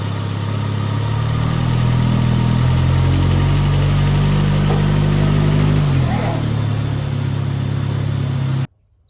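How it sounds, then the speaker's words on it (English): A 2006 Ford Focus engine runs steadily close by as the car is driven up onto ramps, a droning mid-pitched hum with a slight dip in revs partway through before it stops abruptly near the end. "First thing I'm going to do is put the car up on ramps."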